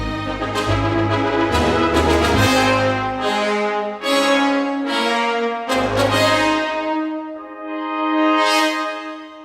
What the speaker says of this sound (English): Altogether, the brass sounds like this.